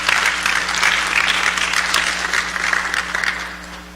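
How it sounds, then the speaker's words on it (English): Steady applause from a conference audience at a diaspora reunion event in Dallas, Texas, a continuous close wash of clapping that holds loud for several seconds before starting to taper off. "give her another round of applause"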